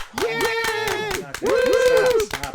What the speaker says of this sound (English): Stop clapping. You're embarrassing yourselves.